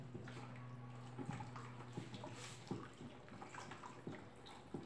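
A homemade soap mixture of dissolved caustic soda, vinegar and oil is stirred in a container, with a faint liquid sloshing and regular soft taps about once a second over a low background hum.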